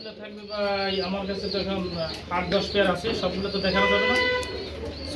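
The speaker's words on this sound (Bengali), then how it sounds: "আমি কিন্তু বেশ কিছু কবুতর দেখতেছি বেবি কবুতর" Pigeons at a pigeon market, including young birds, coo and chirp close by while people talk continuously over them.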